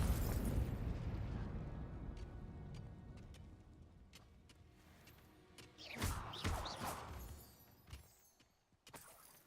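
A Confringo blasting curse in a Harry Potter video game goes off as a burst of sharp booms and crackling pops, loud at first and then decaying, with a couple of later explosive hits.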